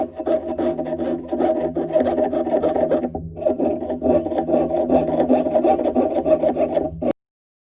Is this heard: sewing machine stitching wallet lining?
no